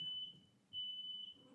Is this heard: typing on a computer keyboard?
no